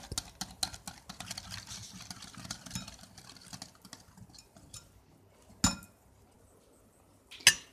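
Oil being whisked for a whole wheat loaf cake batter, a fast, faint ticking of a whisk against a bowl that slows and fades, followed by two louder isolated clinks.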